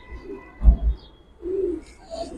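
Pigeon in a loft cooing weakly, a few low, soft coos with a brief murmur between, close and quiet with faint background noise.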